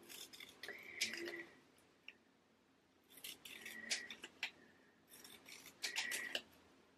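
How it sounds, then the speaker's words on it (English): Scissors chop through diamond painting sticker labels in three clusters of crisp snips, close but quiet, with a faint voice murmuring underneath. "Just chopping down on the rest of these labels, but not all the way"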